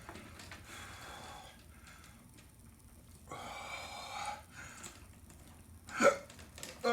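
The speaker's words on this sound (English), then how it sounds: "Oh, I got hiccups." A single loud, sharp hiccup from a man after eating a very hot chip, heard close up against quiet breathing and soft room noise.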